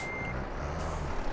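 A truck in Euro Truck Simulator 2 sounds a reversing beep over a continuous loud engine hum and road noise, with a short tone near the start.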